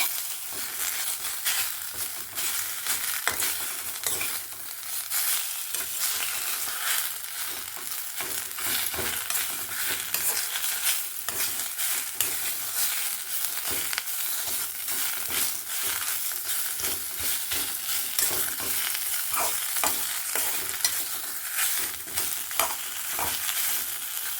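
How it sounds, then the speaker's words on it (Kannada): Indian borage leaves frying in a spoonful of oil for a tambuli, a steady close crackling sizzle with occasional stirring scrapes throughout, no voices. "ಎಣ್ಣೆ ಒಳಗಡೆ ಇದನ್ನು ಹುರ್ಕೊಳ್ಬೇಕು"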